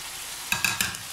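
Tomatoes, green chilies, ginger and coriander tipped into sizzling biryani masala for a barbecue mutton biryani, with a few quick clattering plops and a sharp burst of frying against a low background sizzle.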